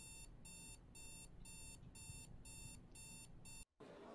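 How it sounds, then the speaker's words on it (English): An alarm clock rings in a video game, a rapid repeating electronic beep pattern in regular bursts that is steady and clear for several seconds, then cuts off abruptly near the end. "Are you gonna hit that alarm"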